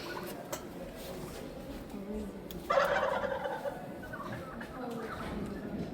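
Distant wild turkeys by a roadside gobble in a brief burst midway through, over a soft outdoor hum, with faint voices nearby.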